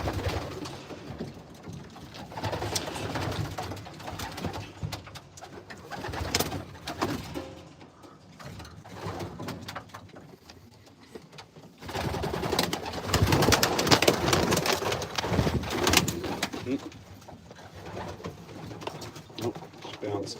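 Racing pigeons coo in their loft, with repeated soft throaty calls, some close and some farther off, mixed with wing flutters and movement.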